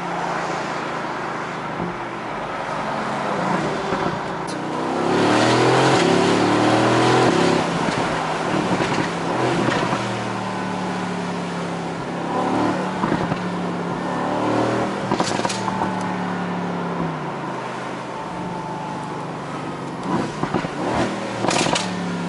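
A 2018 Mercedes-AMG GT C drives along, its engine droning and rising in pitch as it accelerates and shifts through gears, with road and wind noise around it and no talking.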